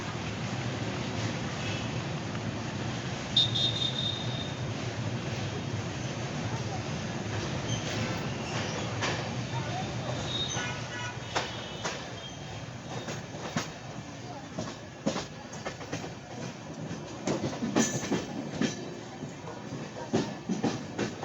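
An express train rolls into Kashi station without stopping, a steady rumble of wheels on rails with faint clicks and metallic squeals, heard from inside the carriage as a voice talks over it.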